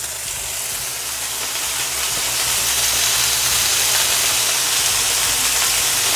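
About half a stick of butter hissing and sizzling in a hot pan for blackened chicken fettuccine Alfredo, a steady close broadband crackle that swells slightly louder partway through and holds.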